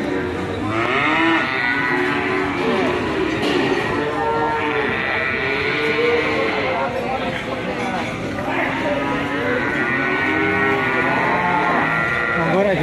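Cattle at an Indonesian livestock market selling heifers and calves moo repeatedly and loudly over a busy crowd, with several animals calling at once and people talking throughout.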